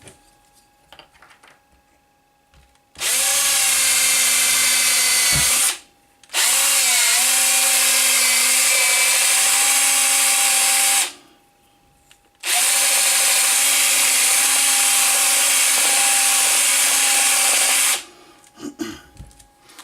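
A power drill whirs in three long bursts separated by short pauses, each run steady and loud with a brief wind-down at the end, working at a home build of simple egg-candling equipment.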